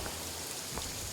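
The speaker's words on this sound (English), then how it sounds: "and now it's raining" Heavy rain falls in the video game Paradise Killer, a dense, even hiss of downpour that holds steady throughout without any talk.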